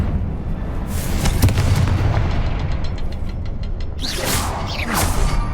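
A Confringo fire spell explodes in the video game Hogwarts Legacy: a loud, dense blast of booming and crackling bursts that rumbles steadily, with a sharper flare of crackle near the end.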